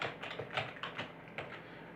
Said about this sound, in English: just typing in FlashROM and hitting return